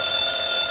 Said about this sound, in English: I believe that's the phone.